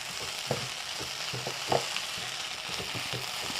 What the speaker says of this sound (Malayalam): സവോള നന്നായിട്ടൊന്ന് വഴന്ന് വരട്ടെ.